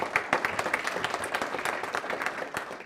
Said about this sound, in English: so a quick round of applause if you